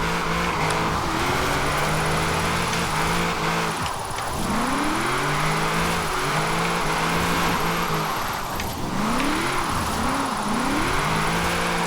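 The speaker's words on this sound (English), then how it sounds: "I wonder if it's really possible to like do a really perfect, somewhat excellent drift while in automatic" Toyota GT86 engine in Forza Horizon 4 revving hard while drifting, pitch swooping up and down repeatedly with quick throttle lifts, a constant loud engine drone with tire noise beneath.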